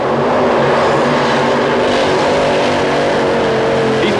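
Multi-engine Irish Challenger modified tractor at a 1991 pull in Anaheim, its engines roaring loud and steady throughout with a slight rise in pitch, with no voices over it.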